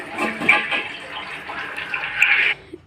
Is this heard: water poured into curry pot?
yes